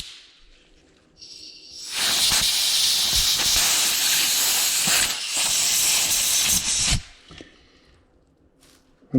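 Compressed air blasts through small carburetor jets from a 1984 Yamaha YTM200 engine, a loud, sharp hiss lasting about five seconds with a brief dip midway, then cutting off abruptly into quiet.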